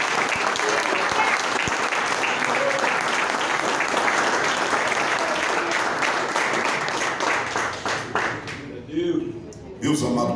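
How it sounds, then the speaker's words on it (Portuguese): A church congregation applauding during a worship service, steady dense clapping that carries on for several seconds before thinning out at the end, with some voices mixed in. "E pode aplaudir Jesus por essa."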